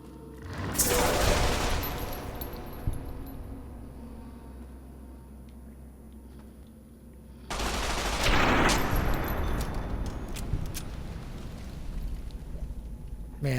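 Heavy automatic weapon fire in Fallout New Vegas erupts in two long, loud roaring bursts, the first near the start and the second after a quieter lull, each trailing off into a rumbling tail.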